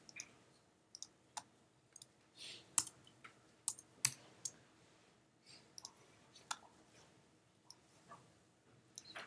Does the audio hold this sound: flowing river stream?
no